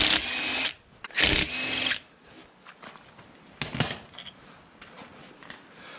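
Impact wrench removing bolts during a Jeep JK one-ton axle teardown, with loud bursts of hammering near the start and a shorter burst later, separated by clanking tool handling in a workshop.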